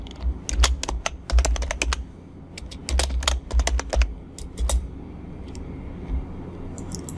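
Fingers clatter on a computer keyboard in quick irregular bursts of crisp keystrokes, close and loud, with short pauses between runs of typing.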